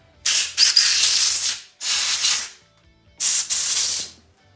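Compressed air blasts metal shavings out of a drilled bolt hole during an outboard motor broken bolt repair, three loud, sharp hissing bursts of a second or so each, separated by brief pauses.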